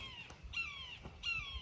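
A crow caws three times outdoors, fairly faint and distant, each harsh call spaced about half a second apart.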